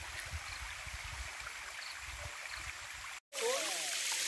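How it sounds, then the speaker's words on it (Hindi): Clear water tumbles over rocks in a hill stream at Ananthagiri Hills, a steady rushing hiss nearby that cuts out briefly and returns louder. "ये जो पानी इन पत्थरों पर टकराते हुए गिर रही है"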